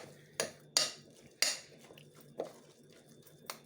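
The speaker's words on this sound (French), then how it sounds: "Je mélange également" A utensil stirs food in a pan seasoned with nutmeg. It makes about six sharp metallic clinks and scrapes at uneven intervals, separated by quiet gaps.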